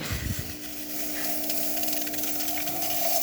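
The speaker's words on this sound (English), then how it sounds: "So let's test the steamer" The steam wand of a serviced Sylvano espresso machine hisses steadily and fairly loudly after a full tune-up, with a continuous spraying rush throughout.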